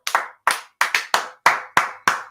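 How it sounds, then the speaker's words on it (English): A round of applause at a live football stream show comes out as about eight sharp, close hand claps in an uneven rhythm, each ringing briefly, with no talking. "Round of applause, please, for"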